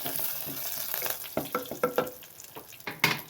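Curry leaves hit hot oil in a pan with a burst of sizzling and crackling, sharp spitting pops rising and fading over a few seconds, close and fairly loud with no talking.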